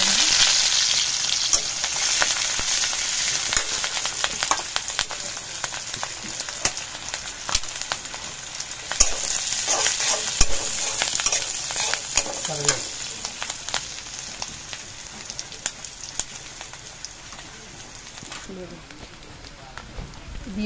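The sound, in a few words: frying garlic and green chili in oil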